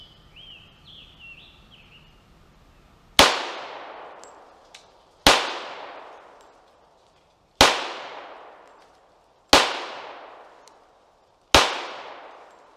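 Five loud, sharp pistol shots from a Tisas Raider firing PMC ammunition ring out outdoors, spaced about two seconds apart, each cracking hard and then decaying; faint birdsong is heard before the first shot.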